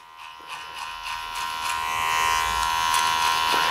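Electric clippers buzz steadily at close range while fading a beard down to a 2 guard, the hum growing slightly louder and rougher as the blades work through the hair, with no one speaking.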